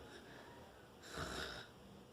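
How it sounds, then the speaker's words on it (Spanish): A single snore-like snort in a quiet scene, a brief breathy rasp rising and fading over about half a second, with no other sound around it. "Todo estaba en silencio hasta que ronquidos."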